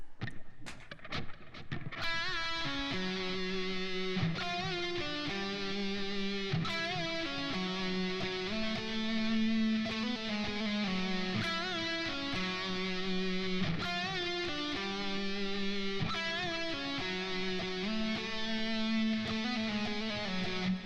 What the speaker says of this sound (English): main guitar solo, I guess. It's a pretty simple melody.